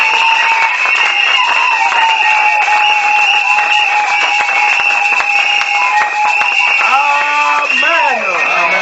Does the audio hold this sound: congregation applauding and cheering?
yes